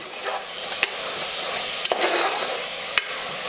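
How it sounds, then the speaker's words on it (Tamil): Mutton pieces sauté in a pan for Tamil mutton kuzhambu, sizzling continuously at close range. A few sharp clinks from a spoon scraping and tapping the pan stand out as the meat is stirred. "மட்டன் சாப்பிட்றதுக்கு ஒரு ஃபைவ் மினிட்ஸ் நல்லா இதை வதக்கிடுங்க"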